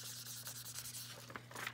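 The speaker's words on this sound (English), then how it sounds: "just always take your time with the burnishing" A polymer clay bangle is burnished smooth by hand, giving a close, soft, continuous rubbing swish with short strokes and a faint steady hum underneath.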